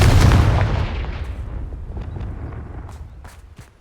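A Confringo spell explosion in Hogwarts Legacy bursts loudly at the start, then rumbles and crackles as it fades over a few seconds, with small scattered impacts near the end.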